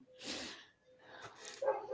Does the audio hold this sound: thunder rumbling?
no